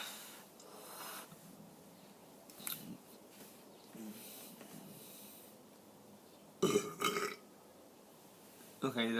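A person's long, drawn-out burp, loud and close, rising sharply out of near-quiet, with a second burp starting right at the end and faint rustling before it.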